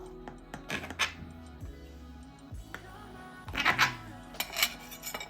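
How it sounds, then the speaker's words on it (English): Knife and fork clinking against a plate while a slice of Dr Pepper cake is cut and lifted out, with scattered sharp taps and scrapes close by, no talking. "I'm going to cut a slice so you can see how this Dr. Pepper cake looks"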